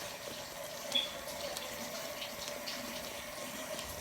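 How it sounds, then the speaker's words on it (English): Faucet water runs steadily as flour is washed off hands in a home kitchen, a constant moderate hiss close by with one brief splash near the start, and no talking. "Let me wash my hands."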